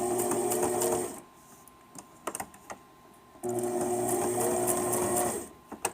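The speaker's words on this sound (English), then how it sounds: "sew all 3 edges together. Alright, always remember to back stitch after you've done a few stitches." A sewing machine stitching fabric edges together, running in two bursts of fast, even whirring with a pause between them filled by small clicks and handling of the fabric.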